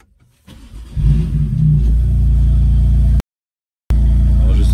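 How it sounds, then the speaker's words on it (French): A BMW M3 F80 Competition starts up close by: a crank, then a loud barking exhaust flare settling into a steady deep idle, cut briefly by a short silence before the rumble returns. "je sais pas si sur la vidéo on va entendre le bruit de l'échappement"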